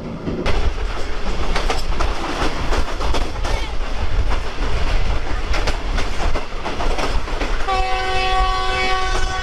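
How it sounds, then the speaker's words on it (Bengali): The Green Line Express train rumbles loudly along the rails at about 103 km/h in Pakistan, with rhythmic clickety-clack, and a horn blares near the end. "গ্রিন লাইন এক্সপ্রেস ট্রেনের 103 স্পিডে যাচ্ছে"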